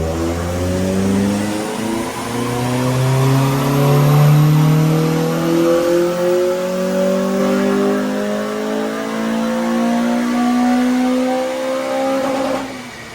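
Honda Civic Type R EP3 engine revving on a dyno during a remap, pulling steadily up through the revs in one long, loud, rising run, then easing off near the end.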